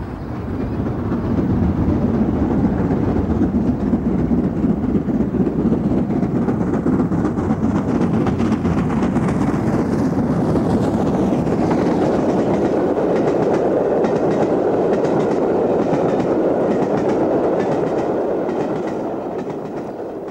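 An LMS steam locomotive running on a British main line, a steady loud rumble with clickety-clack of wheels and a broad roar that holds constant before easing off at the end, no voices.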